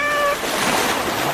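A cat gives a brief, fairly loud meow right at the start, then breaks off into a steady wash of background noise.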